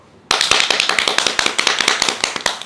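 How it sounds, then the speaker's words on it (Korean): A burst of quick, sharp clapping from a few people close by on a sea fishing trip, starting abruptly after a short quiet moment. "박수!"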